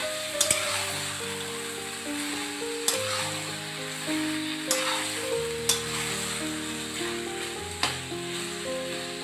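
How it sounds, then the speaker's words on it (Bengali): Meat, onion and spices sauté together in a pan, giving a steady, close sizzle. Occasional clinks of a stirring utensil rise above it, and no one speaks. "মা কষাচ্ছে।"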